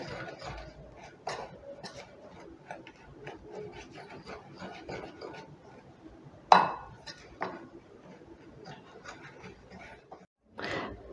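Flour, baking powder, sugar and salt being mixed in a bowl for fried apple and sugar balls, faint scraping and soft clinks of a spoon against the bowl, with a few sharper knocks.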